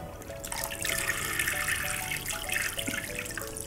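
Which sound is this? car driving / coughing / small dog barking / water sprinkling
water sprinkling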